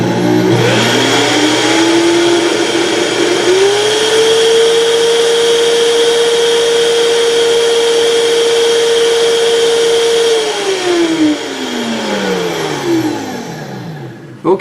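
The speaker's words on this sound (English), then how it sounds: "turning up the Vitamix blender all the way." A Vitamix blender whirs loudly, spinning up from low to a high steady pitch, holding at full speed for several seconds, then winding down.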